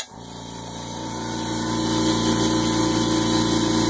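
A new Husky Silent Flow air compressor starts with a brief thump and settles into a steady, moderately loud motor hum that builds slightly and then holds even, with no talking.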